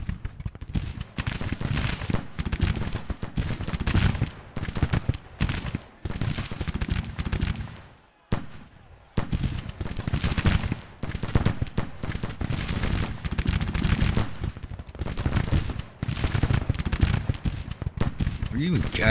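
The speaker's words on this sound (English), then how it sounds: "I just heard them firing." Dense volleys of musket and cannon fire roll through a Civil War strategy battle, crackling in near-continuous bursts with a brief lull midway before the firing resumes just as heavily.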